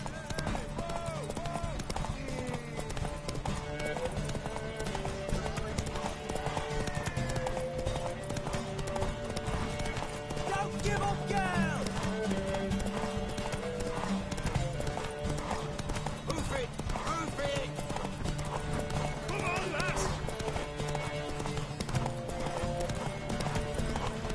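Hooves of a galloping horse in The Witcher 3 video game, pounding steadily for a long stretch alongside occasional neighing, music and character dialogue throughout.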